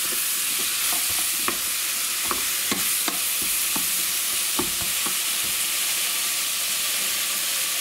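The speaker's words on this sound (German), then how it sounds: "Ein bisschen umrühren." A wooden spoon stirs a pork pot roast simmering in its pan juices, giving a steady close sizzle broken by irregular scraping knocks against the pot; no voices.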